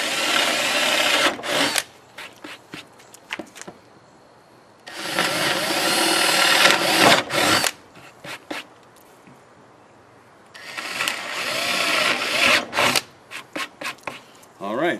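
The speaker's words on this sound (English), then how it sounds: "you just want to get the sawdust up here so your saw doesn't catch on it when you go" Hand saw cutting through wood while restoring a flood-damaged Pac-Man arcade cabinet: two long bursts of rough, rasping back-and-forth strokes, close and loud, with short scrapes and pauses between them and no talking.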